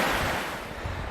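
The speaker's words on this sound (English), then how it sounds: "Do you like the sound of the water?" Water rushes steadily beside an outdoor hiking trail, a continuous broadband wash mixed with some wind buffeting the microphone, close and fairly loud throughout.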